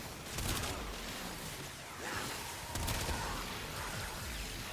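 Gunfire in the Warframe video game, with a few bursts of shots and sharp transients over a steady dense game mix. The firing is moderately loud with no voices heard.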